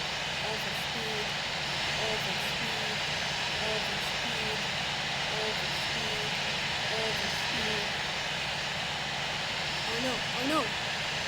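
A steady, loud aeroplane engine drones in an emergency landing video game, a continuous roar filling the whole stretch while a person talks over it.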